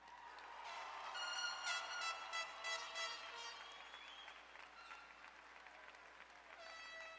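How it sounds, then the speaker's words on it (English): Audience at a high school graduation ceremony applauding, a sustained wash of clapping with a few cheers, heard at a distance and fairly faint, fading slightly toward the end. "Can we give him one more round of applause?"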